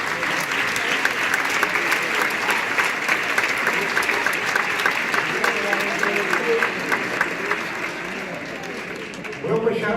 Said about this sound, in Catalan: us demano un fort aplaudiment per tots ells.